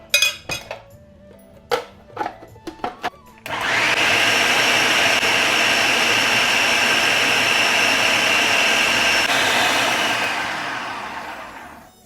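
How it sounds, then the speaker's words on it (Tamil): Soaked chana dal clinks into a kitchen grinder in a few sharp metallic taps, then the motor starts and roars steadily for several seconds before winding down at the end. "இப்போ நான் அரைக்கிறதுக்கு கிரைண்டருக்கு போட போகிறேன்."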